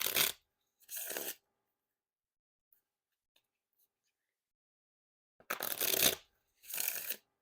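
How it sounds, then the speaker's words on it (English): Thick, stiff prototype playing cards riffle shuffled up close, four short crisp fluttering bursts, two early and two late, separated by a long quiet gap. "those riffles are like the stiffest riffles that I've ever done"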